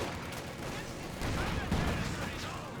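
Gunfire bursts from Company of Heroes 2 during a Soviet versus German match, with rifle and submachine gun fire crackling as infantry squads clash, a busy battle mix under a commentator's voice.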